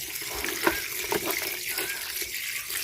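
Tap water running steadily into a sink while small fish are rinsed, a close, continuous splashing flow broken by a few knocks and clatters of handling.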